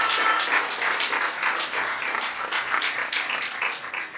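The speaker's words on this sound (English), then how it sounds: "She deserves another round of applause." An audience at a public speaking competition gives a steady round of applause. Dense clapping fills the hall at an even level throughout.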